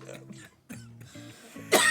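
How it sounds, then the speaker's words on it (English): An adult's cough bursts out sharply at the end, after a few softer throat sounds, close to the microphone during a casual conversation about cricket. "cough."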